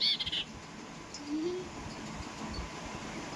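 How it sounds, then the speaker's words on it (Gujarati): A short burst of high, thin sparrow chirps opens the clip, then fades into a steady low outdoor rumble with a faint brief call in the middle. "કેસરી કલર એકદમ સરસ મજાની ભાઈ ચકલી છે અને રામજી જો કે પકડી લાવ્યો છે"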